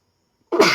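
A single loud, close sneeze bursts out abruptly after a moment of silence, harsh and broadband, with no talk around it.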